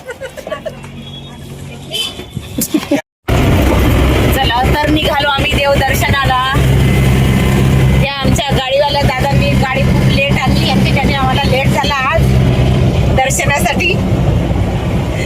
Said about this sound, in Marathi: आली आमची गाडी